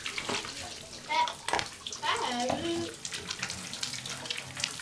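Water runs steadily from a bath tap while a child's hair is rinsed in the tub, a continuous splashing flow with faint voices underneath.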